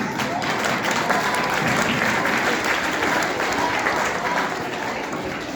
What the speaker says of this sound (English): So we give a round of applause to all the members.